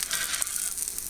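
An egg fries in a Lodge cast iron pan, giving a close, steady sizzle with a crackly hiss that holds throughout.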